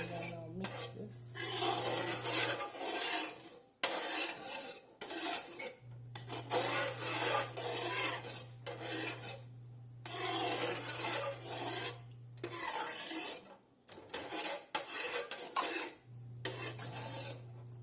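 Meat stew with about two cups of canola oil is stirred in a pot, giving steady rasping, scraping strokes of the spoon against the pot that come in long runs with brief pauses over a low steady hum.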